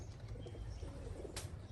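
Racing pigeons from an old-bird 50-mile toss fly overhead with soft wing flutters and faint cooing in a quiet outdoor setting, mixed with low rumbling background noise and no talk.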